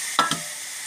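Spice paste tipped into hot frying masala in a pan, giving two quick wet splats followed by a steady, close hiss of sizzling oil.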